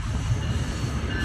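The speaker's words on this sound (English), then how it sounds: "this is the Brightline train" A Brightline passenger train rolls past a road crossing, a loud close rumble of wheels on rail with a faint squeal, steady throughout with no talking.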